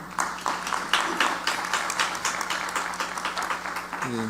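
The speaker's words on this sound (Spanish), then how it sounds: "maestro Rafael Caballero Hernández, a quien recibimos con un fuerte aplauso y cedemos el uso de la palabra." An audience at a Mexican panel on indigenous normative systems greets a speaker with steady, moderately loud applause for about four seconds, and a voice begins at the very end.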